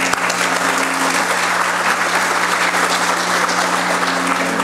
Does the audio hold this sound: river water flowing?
no